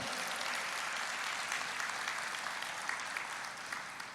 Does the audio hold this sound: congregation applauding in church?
yes